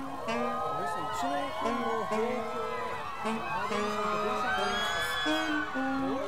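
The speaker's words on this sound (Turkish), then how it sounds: "Çığlık çığlığa herkes." A crowd screams and whoops at a show, with overlapping high yells and shouts that keep up a steady, dense din throughout.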